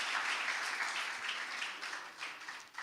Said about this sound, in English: I think we should really appreciate that with a huge round of applause